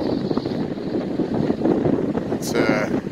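Steady wind rushes and gusts around a small 800 watt wind turbine on a breezy day, with 15 to 18 mph gusts buffeting the microphone throughout and a brief brighter whoosh near the end.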